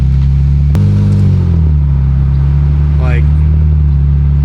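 An Infiniti Q60 with an aftermarket exhaust rolls through a neighborhood at low speed, its deep, steady engine drone droning loudly throughout with a brief pitch shift, while someone talks over it.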